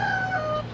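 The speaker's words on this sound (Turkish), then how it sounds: "Horozlar falan var burada." A rooster crows near a backpacker hostel in Dili, East Timor: one short, clear crow with a falling pitch, heard close over a steady low background hum.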